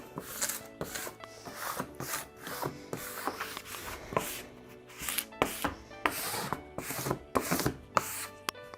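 A small scraper or burnisher rubs firmly over glitter acrylic cake topper material. The strokes come as repeated close scratchy scrapes in an uneven rhythm, with no voices.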